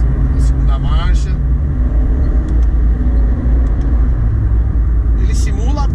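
Honda Civic Touring turbo sedan accelerating hard through its simulated shift into second gear, a loud, constant engine and road drone heard from inside the cabin, with a voice talking faintly beneath it.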